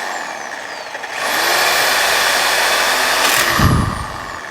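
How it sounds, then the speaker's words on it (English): A worn saw with hardly any teeth left cuts a bracket off a GMC motorhome, giving a loud steady whine that rises after the first second and holds, with a low thud near the end. "There's hardly any teeth left on this, but let's see if there's enough to cut that bracket off of there"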